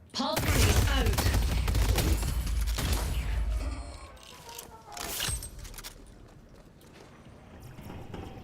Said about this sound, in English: Pulse grenade out.